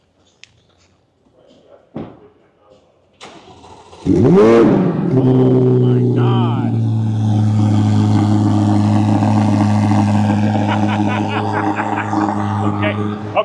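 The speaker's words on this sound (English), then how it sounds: "Marty's gonna start up this C8 Z06 with the Z07 package with the aftermarket exhaust" A Corvette C8 Z06 with the Z07 package and aftermarket exhaust fires up after a few clicks, settling into a loud, deep, rumbling idle with rising revs, close by; a voice exclaims briefly.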